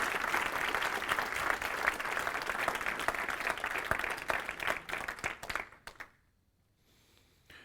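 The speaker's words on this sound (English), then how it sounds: "Just give them another round of applause" An audience claps in a dense burst of applause that holds steady for several seconds, then quickly dies away to near silence.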